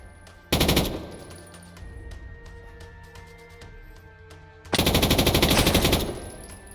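Gunfire in a modded Minecraft island warfare game: two loud, rapid machine-gun bursts, one short and one longer, with quieter ticking and clicking between them.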